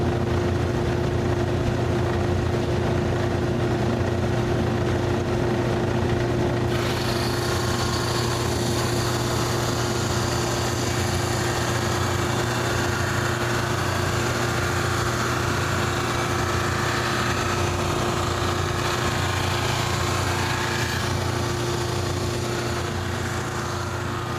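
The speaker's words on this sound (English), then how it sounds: "another great thing about the sander, it's going to get rid of all those things also" An electric sander smoothing wooden wainscoting pieces, its motor holding a loud, steady whining drone with a constant hum throughout and no voices.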